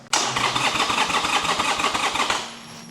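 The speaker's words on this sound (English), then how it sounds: "press the starter" A Harley-Davidson motorcycle's starter cranks the engine over in a steady, fast rhythmic churn for about two and a half seconds, loud and close, then cuts out without the engine catching.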